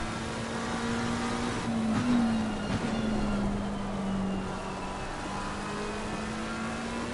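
A GT3 race car engine drones steadily at the Zolder circuit, a sustained, fairly distant tone that swells slightly and eases, with no talk over it.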